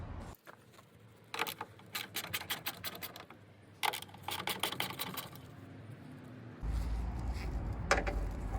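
A ratchet works loose the 10 mm tail light bolts on a Nissan NV200, giving bursts of rapid clicking in two separate runs, close and fairly quiet, followed by a steadier background rumble.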